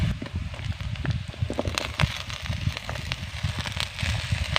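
Cut potatoes go into hot oil in a pan over fried onions for a tomato and potato curry, giving a continuous close sizzle with crackling pops, with no talking.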